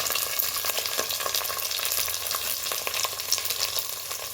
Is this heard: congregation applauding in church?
no